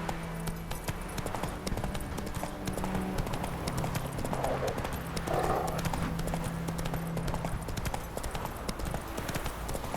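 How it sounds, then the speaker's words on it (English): Hooves of a horse galloping in The Witcher 3: Wild Hunt on PS4 make a steady, close clip-clop rhythm throughout, over a low game background with a possible brief whinny. "Come on, Roach."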